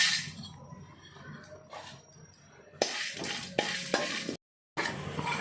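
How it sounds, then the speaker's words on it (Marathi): Green cardamom and bay leaves roasting in a pan with a little oil, heard as a quiet crackle first, then louder dry sizzling with clinks and scrapes of a utensil, cut by a short silent gap, with no talking. "हिरवी वेलची आपण भाजून घेऊया"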